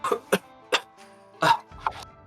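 A few short, soft coughs spaced apart, close by, from smoke in the air, with a slightly longer throaty cough near the end.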